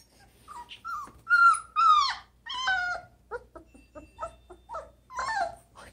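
A puppy whimpers and cries in a string of high, wavering whines, some drawn out and others short, close by with no talk over them.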